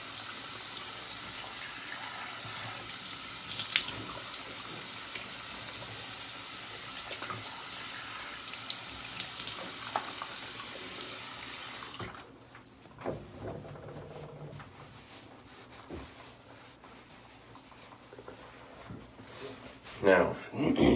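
A bathroom tap runs steadily for about twelve seconds during rinsing after a shave, then cuts off, leaving quiet handling noises and a few knocks at the end, with someone talking throughout.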